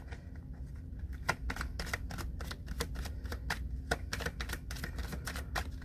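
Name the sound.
tarot cards being shuffled and drawn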